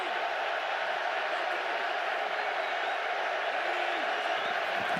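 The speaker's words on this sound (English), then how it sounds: "a partisan Seattle crowd making noise with the Seahawks on defense" A partisan Seattle crowd roars at the Super Bowl while the Seahawks play defense against the New England Patriots: a dense, sustained stadium din, loud and steady throughout with no break.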